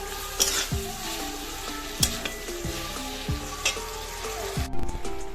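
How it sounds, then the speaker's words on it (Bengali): Chilli cauliflower with chilli, tomato and soy sauces sizzles loudly in a frying pan while a utensil scrapes and stirs it in repeated strokes, close up and with no voice. "সমস্ত সস দিয়ে এটাকে ভালো করে নাড়াচাড়া করে নিচ্ছি chilli sauce tomato sauce soya sauce"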